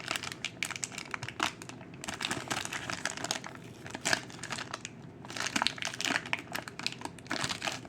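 A toy's card is bent and worked out of stiff plastic clamshell packaging, making faint, continuous crinkling and crackling bursts with short pauses in between.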